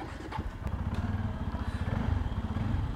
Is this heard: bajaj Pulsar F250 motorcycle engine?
yes